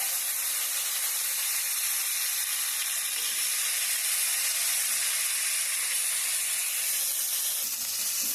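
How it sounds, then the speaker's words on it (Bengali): Chicken pieces frying on high heat for butter chicken make a steady, close sizzle and hiss of spitting oil that holds at an even level throughout, with no talking. "চিকেনটাকে কিন্তু হাই আছে ভেজে নিতে হবে"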